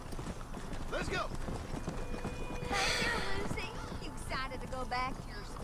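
Horse hooves clip-clop under talk in the Western video game Red Dead Redemption, with a faint whinny and several voices speaking over the trotting.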